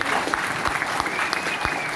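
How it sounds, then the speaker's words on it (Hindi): Loud, dense applause from an audience at a company celebration event, a sustained roar of many hands clapping close and full, with a faint voice beneath. "एक बार जोरदार तालियां"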